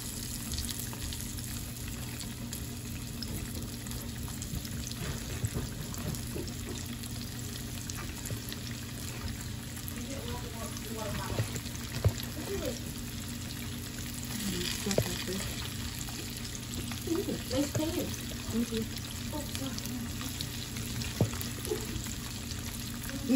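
Fish and shrimp fry in hot oil with a steady, dense sizzle and crackle throughout, joined by occasional clinks and stirring noises.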